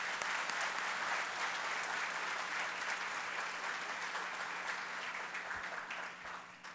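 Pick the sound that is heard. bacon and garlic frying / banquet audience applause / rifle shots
banquet audience applause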